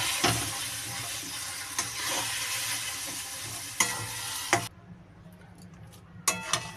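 Taro leaves cooking with a hilsa fish head sizzle steadily in a pan while being stirred, with a few sharp utensil clanks against the metal. The frying grows noticeably quieter partway through, then brief scraping returns near the end.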